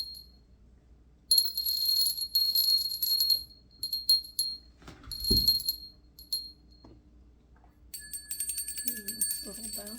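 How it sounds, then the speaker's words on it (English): Small bells ring in several bright, jingling bursts, their high tones lingering, with a voice speaking briefly in between. "And then I usually ring a bell. This is going to be the loudest one."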